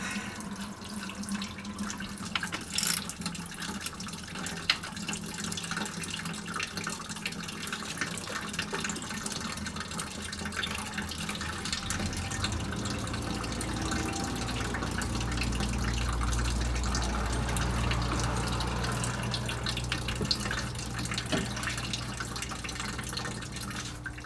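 Water drains steadily from the cooling system of a 2007 Dodge Ram with a 5.7 HEMI, a continuous close splashing stream that deepens into a heavier gush about halfway through.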